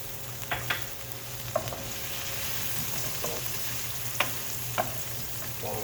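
Lumache pasta stirred in a pot beside melting butter for Jamaican jerk shrimp, giving scattered spoon scrapes and soft knocks over a steady background hiss, with no one talking.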